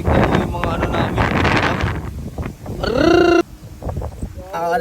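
Strong wind buffets the microphone outdoors during a hike in the Philippines, with loud continuous roaring gusts, a mooing cow heard briefly, and people chatting in the background.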